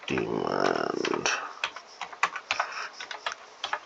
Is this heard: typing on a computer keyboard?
yes